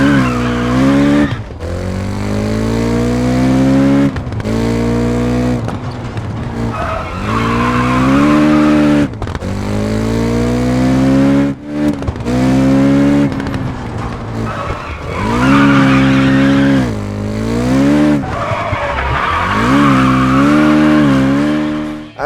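A 1970s rear-wheel drive rally car in WRC 10 revs its engine and exhaust up and down through repeated gear changes, loud and close, with tire squeal between rising engine notes.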